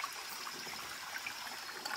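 Small forest stream in old-growth woods running low in the dry season, a faint, steady trickle of shallow water, soft and close, with no voices.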